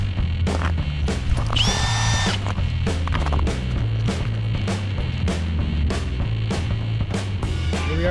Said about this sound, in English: We drilled a few holes, checked it out.